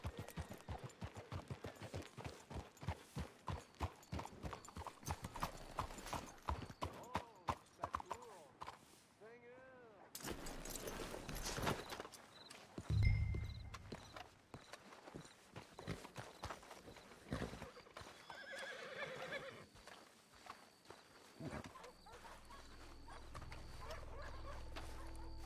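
Rhythmic clip-clop of horse hooves, close and steady, with a brief whinny and people talking over it amid outdoor ambience, in the video game Red Dead Redemption 2.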